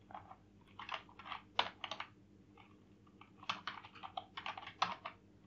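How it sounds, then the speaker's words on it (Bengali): Close, crisp keystrokes on a computer keyboard as someone types localhost, coming in quick clustered bursts separated by short pauses, with no talking. "সরাসরি এখানে লোকাল হোস্ট লিখব।"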